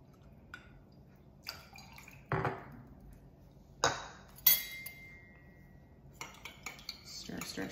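A spoon clinking and scraping inside a glass while a tequila toddy with lemon juice is stirred: scattered sharp taps and rattles with quiet gaps between them, close up and soft, followed by a brief ringing tone.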